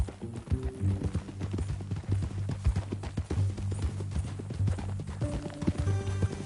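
Steady clip-clop of horse hooves trotting at an even pace in the video game Red Dead Redemption 2, close and clear, with a low musical tone droning underneath.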